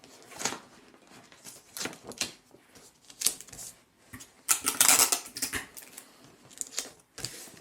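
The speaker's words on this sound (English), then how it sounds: "I take small little bits of sellotape. And then I start taping everything together" Small strips of sellotape pulled, torn and pressed together while joining paper circles for a tunic top pattern: close, crackly ripping and tapping bursts, busiest in one dense stretch near the end.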